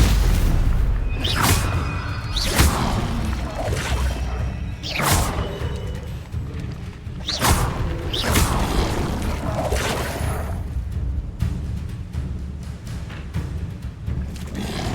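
Spell impacts in Hogwarts Legacy, including a Stupefy stun, land as repeated heavy booms and whooshing bursts spaced a second or two apart, loud and close amid battle noise.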